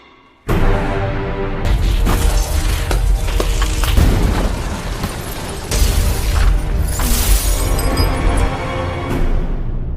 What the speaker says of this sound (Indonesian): terjadi ledakan elektronik yang membuat Tom dan seluruh penonton terkejut